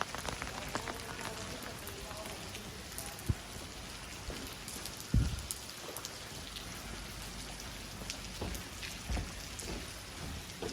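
Steady rain falls during a spring walk in Oslo, Norway, a dense, even hiss of drops close by with a couple of sharper, louder spatters, and no voices.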